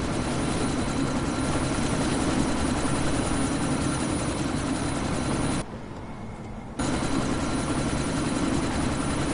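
A helicopter flies in a sandstorm in the video game Deus Ex, a loud continuous rotor roar with steady engine drone that cuts out briefly for about a second before resuming.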